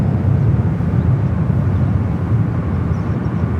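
A passenger jet rumbles steadily at San Francisco International Airport, a loud continuous low roar of engine noise with no break and no talking.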